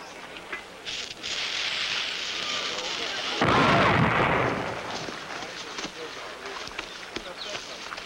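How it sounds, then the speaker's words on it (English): A dynamite blast goes off at mid-distance, a sudden broadband roar rising from steady background noise and swelling for about a second and a half before decaying back into rustling ambience. "dynamite is the biggest firecracker of them all"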